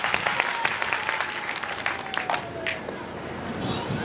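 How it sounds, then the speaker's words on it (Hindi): Applause from an audience at a Bhagavat Katha religious gathering, a fairly dense burst of clapping with individual claps standing out, fading toward the end, with a voice briefly audible over it. "एक बार तालियां"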